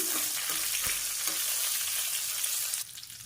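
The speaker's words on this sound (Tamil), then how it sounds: "சேர்த்துட்டு ரெண்டும் நல்லா பொரிஞ்சுக்கணும்." Cumin seeds and dried red chillies frying in a pan of hot oil, a steady close sizzle with faint crackles throughout that drops in level near the end.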